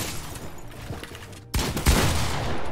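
Gunfire in the video game Fortnite: a sharp, loud shot bursts in after a quieter stretch, followed by another heavy blast and continued rumbling noise.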